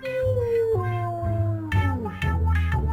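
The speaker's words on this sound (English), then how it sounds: "The wolf screams and leaves." A cartoon wolf lets out a long, wavering howling scream that slides downward in pitch, broken into several strained bursts, loud and close with no other voices.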